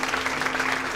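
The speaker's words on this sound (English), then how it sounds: "Please, let's give them just a quick round of applause." A theater audience claps in a quick round of applause at a public-policy event, dense steady clapping filling one second.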